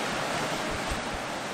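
Ocean waves in ten-foot seas wash and splash around a sailboat in gusty wind, a loud, steady roar of surf and spray close to the microphone, heard without speech.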